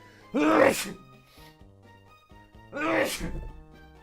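A person sneezes twice during a live Pokémon Emerald Imperium game stream: two loud, sharp bursts a couple of seconds apart, each falling off quickly, over faint background music.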